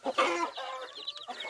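A hen clucks nearby in a short run of quick, throaty notes, alone with no voices.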